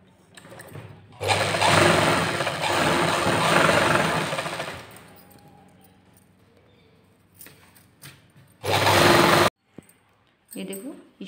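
A sewing machine stitches salwar fabric in two loud mechanical runs: a long burst of rapid whirring stitching, then a shorter one after a quiet pause, with a voice speaking in between.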